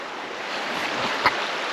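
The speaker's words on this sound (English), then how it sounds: "Right next to the river." A river flowing right beside a winter tarp camp spot on the Kintyre Way, a steady close rushing of water with a single brief knock partway through and no talking.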